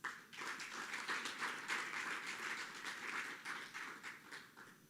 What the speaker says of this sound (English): Let's give them once again a wonderful round of applause.